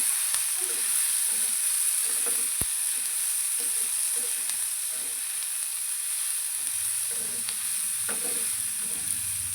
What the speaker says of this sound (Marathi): आता ह्याच्यामध्ये आपण एक चमचा तेल ॲड करायचं आहे आणखीन भाजून घ्यायचं आहे व्यवस्थित